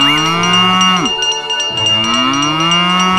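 A cow moos loudly and close, two long drawn-out calls with a short pause between, a faint bell-like ringing underneath.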